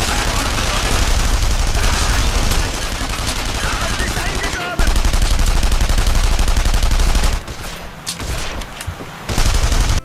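Dense, loud gunfire from a PS3 shooter game, rapid automatic bursts running almost continuously with brief drops in intensity between volleys.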